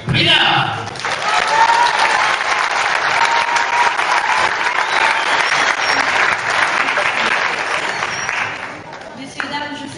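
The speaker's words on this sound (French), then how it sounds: "Nous venons d'accueillir dans un tonnerre d'applaudissements Sylvie Brillard." A gala audience gives sustained, thunderous applause to welcome the association president, a dense crowd of clapping hands building quickly and holding loud for several seconds before fading into a voice.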